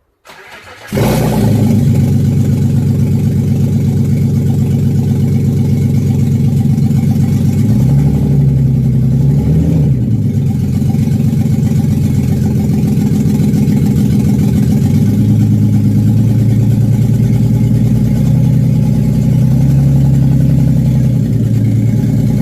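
A BMW E39 fitted with the M54 engine cranks and fires at about one second, then settles into a steady, loud, close idle with slight fluctuations in its rumble throughout.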